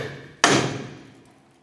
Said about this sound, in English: Using a pickle fork, I'm going to go between the ball joint and the knuckle